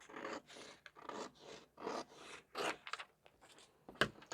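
Scissors cutting a paper sewing pattern for a skirt, a steady series of rasping snips repeating about every half second, close and clear with no talk.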